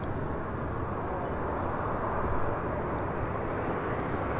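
An Air Tahiti Nui airliner departing LAX, its jet engines producing a steady, broad roar that holds at an even, fairly loud level throughout with no voices over it.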